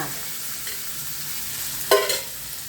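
A Telugu tempering of spices sizzles in a little oil for a bottle gourd curry, with a soft steady frying crackle and a sharper burst of sizzle and stirring near the end.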